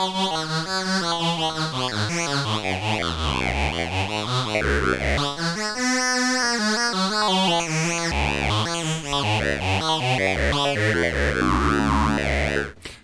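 A vintage 1970s Yamaha CS-15 analog synthesizer plays a shifting, buzzy melodic line, its tone swelling and thinning as a sine-wave LFO sweeps the pulse width, with rich sustained notes and changing pitch for several seconds, no talking.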